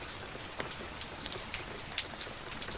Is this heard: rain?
yes